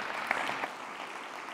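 Brief applause from an awards-ceremony audience at a mobility awards event, a dense patter of clapping at moderate level that fades steadily over about a second and a half.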